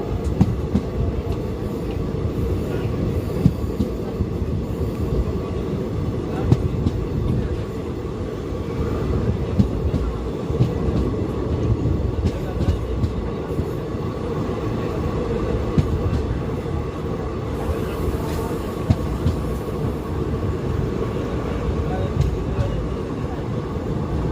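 The Somnath Ahmedabad Intercity Express 19120 rolls between Rajkot and Ahmedabad, heard from inside as a steady, loud rumbling rail roar with faint clickety-clack and rattling throughout, no voices.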